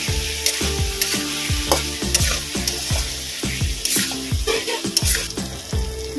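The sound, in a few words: spices with ginger paste, cumin and coriander sautéing in oil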